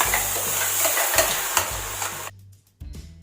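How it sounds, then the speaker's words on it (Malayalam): Ground masala paste goes into a hot pan for butter chicken and hits the fat with a loud, close sizzle and stirring scrapes. The sizzle drops away briefly near the end, then the pan starts hissing again. "ഇതിലേക്ക് വേഗം നമുക്ക് ഈ അരച്ചു വെച്ചിട്ടുള്ള അരപ്പ് ഒഴിക്കാം"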